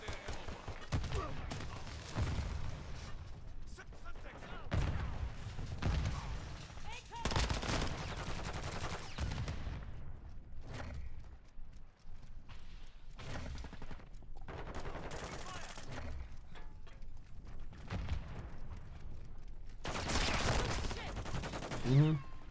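Repeated bursts of gunfire from Call of Duty Modern Warfare II crackle through a chaotic match, fusillades and machine-gun volleys punching in close and loud, with shouted voices mixed in.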